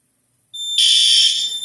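A piercing high-pitched Notifier fire alarm starts abruptly after a moment of silence during a smoke detector test and blares steadily, loud and close.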